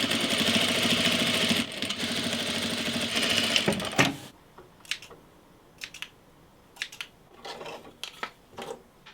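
An overlocker sewing machine runs in a steady, loud whir for about four seconds, then stops, followed by scattered soft clicks and taps as thread and parts are handled nearby.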